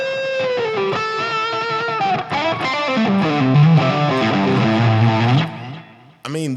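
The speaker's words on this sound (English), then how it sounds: "That's just a great guitar tone." Electric guitar playing a melodic lead line with a driven, slightly distorted tone, notes bending and sustaining before a brief drop and a final strum.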